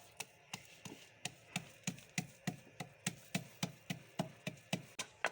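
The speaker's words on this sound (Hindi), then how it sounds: "तो अब अदरक लहसुन को कूट लेते हैं।" Ginger and eight to ten garlic cloves with coriander pounded in a mortar, a steady run of sharp, close thuds at an even, brisk rhythm, about three per second, alone without talk.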